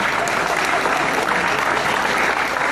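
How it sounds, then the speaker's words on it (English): A large audience at a junior tennis event claps in a steady, dense wash of applause that stays loud and even throughout, with a faint voice murmuring underneath. "Yeah, you can clap"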